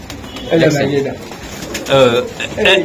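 Mosaldom pigeons coo in throaty, rolling phrases, close by, in three distinct bursts with brief pauses between.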